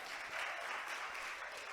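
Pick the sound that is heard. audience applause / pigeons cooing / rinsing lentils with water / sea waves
audience applause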